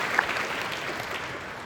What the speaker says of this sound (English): a round of applause for Lawrence for his support